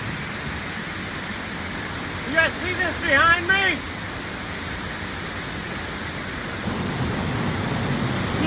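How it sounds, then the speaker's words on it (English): A waterfall rushing at night, a constant loud broadband roar of falling water close by, with someone briefly speaking over it. "We're about to walk behind this waterfall."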